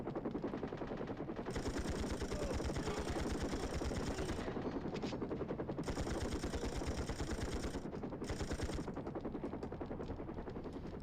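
Rapid automatic assault rifle fire comes in long sustained bursts, with brief pauses between them, in a retro James Bond video game. The gunfire is dense and continuous, sharp and up front.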